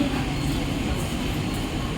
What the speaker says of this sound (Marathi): प्लॅटफॉर्म क्रमांक 1 पर आई हुई लोकल 10:50 मिनट की अंबरनाथ जाने वाली ही लोकल है।